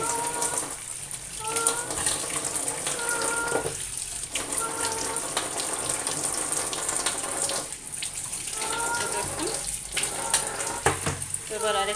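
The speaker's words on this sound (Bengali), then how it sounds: "প্রথমে আমি ধুয়ে নিচ্ছি এরপরে বাটিতে জল দিয়ে ফিরে আবার ধুয়ে নেব" Food, likely bananas, being rinsed by hand in a bowl of water in a home kitchen, with steady splashing and sloshing broken by brief pauses, running close and continuous throughout.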